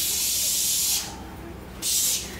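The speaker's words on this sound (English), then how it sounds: "proceeded to spray at it." Two bursts of bug spray aerosol hiss, a long one followed by a short pause and a second shorter blast, close and fairly loud.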